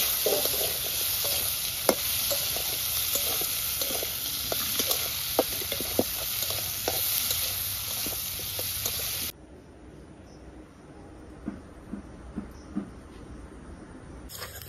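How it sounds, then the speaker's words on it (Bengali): Chopped onion sizzles and crackles in a hot pan with repeated stirring scrapes, loud and steady at first, then dropping to a quieter sizzle with occasional clinks. "এবার আমি পেঁয়াজটা দিয়ে একটু সামান্য ভেজে নেবো"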